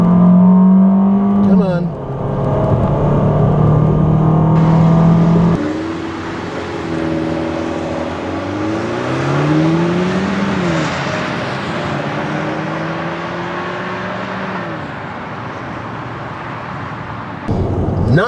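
A 2014 FIAT 500L engine revs hard through the gears from a standstill at high altitude, loud and close inside the cabin, with rising drone, brief dips at shifts, and a man's short remark.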